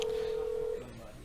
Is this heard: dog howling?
no